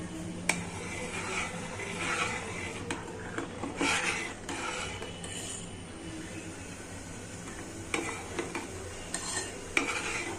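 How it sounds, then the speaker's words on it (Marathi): Varicha, barnyard millet rice, is stirred in a pan: a steady scraping and rubbing runs throughout, with scattered sharper clicks of the spoon against the pan, close and fairly quiet, with no talk. "असं आपण याच्यावर ढवळून घ्यायचं।"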